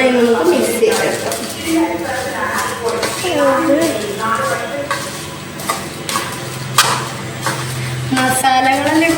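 Flattened rice (aval) snack is tossed and mixed in a bowl, with clinks of a utensil against the dish and a bright scraping rustle, close and loud while someone talks over much of it.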